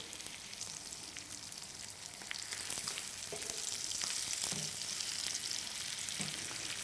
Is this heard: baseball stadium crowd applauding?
no